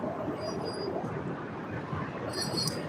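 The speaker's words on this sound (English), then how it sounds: "I'm sure you could tell we were under train tracks." A train rumbles over tracks overhead near the Mississippi River by Memphis, a steady broadband roar with faint metallic squeals and clinks, loud and continuous with no talk.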